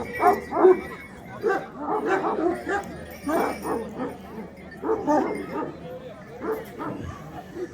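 An Anatolian shepherd dog, Kobra Avşar line, gives repeated barks and yips with whimpering in a rhythmic series, close and fairly loud, mixed with people talking nearby.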